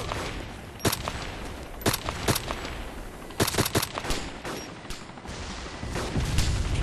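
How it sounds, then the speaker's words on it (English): ArmA 2 sniper rifle shots ring out as a series of sharp, separate cracks, some single and some in quick clusters, over a continuous outdoor ambient bed. "There's a guy running zigzag from a sniper rifle that's shooting him from the side."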